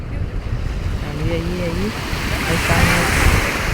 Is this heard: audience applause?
no